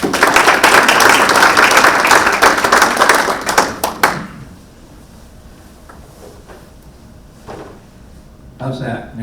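An audience at a forum event applauds to welcome a speaker, with dense, loud clapping that fills the first four seconds and then stops abruptly, leaving a quiet room with a few faint noises.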